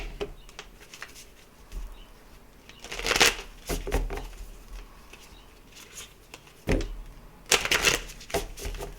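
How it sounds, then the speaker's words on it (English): A deck of playing cards being shuffled, with soft riffling bursts and flutters at irregular intervals, fairly close and with no talk over them. "while I'm shuffling, I'm going to just tell you what I did"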